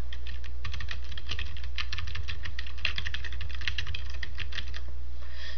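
Rapid typing on a computer keyboard, a dense run of light clicks and key taps over a steady low hum, fairly close and continuous with no talking.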